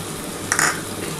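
A ginger, garlic and green chilli paste is sautéed in a pan for a potato and lote fish curry, with a short scraping stir over a constant low frying hiss, heard up close.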